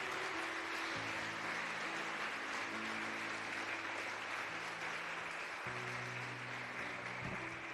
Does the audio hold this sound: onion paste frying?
no